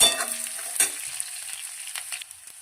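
Onions fry in a pan for poha, with a close crackling sizzle punctuated by sharp stirring scrapes and clicks that gradually thin out into quieter spitting.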